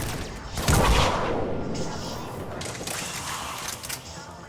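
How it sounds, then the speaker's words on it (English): A shotgun blast booms in Mass Effect 3 combat, one heavy close report followed by a sustained roar of game noise and mechanical rumble that fades slowly. "Shotgun."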